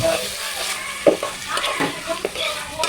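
Kala bhuna beef curry stirred as it fries, with a sizzling hiss and short scraping strokes of a spoon across the pan, close by, while a voice talks faintly underneath.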